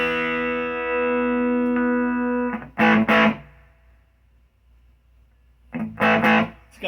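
A distorted electric guitar chord rings out and decays, followed by two bursts of gritty, buzzy strummed chords from a solid-state amp, loud and close.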